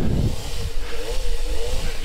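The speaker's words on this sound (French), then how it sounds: "comme tu peux l'entendre, j'utilise bien mon moteur pour ne pas caler" A motorcycle on a moto instructor test course lap holds a steady, close engine drone at low speed, kept running evenly to avoid stalling, with wind rumble mixed in.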